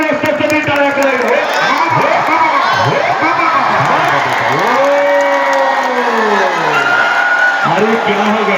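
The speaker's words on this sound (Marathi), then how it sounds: "जुने असतासाठी टाळ्या करा" Crowd applause and cheering fill the air at a traditional kusti wrestling match in Parbhani, a dense steady roar with a loud voice calling out over it throughout.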